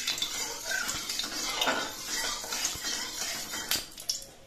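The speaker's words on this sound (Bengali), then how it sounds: "খুন্তি দিয়ে তেলটা কড়াইয়ের চারপাশে একটু লাগিয়ে নিচ্ছি।" A metal spatula scrapes and clinks around a hot wok as oil is spread for frying radish fritters, with steady close scraping strokes and a faint sizzle beneath.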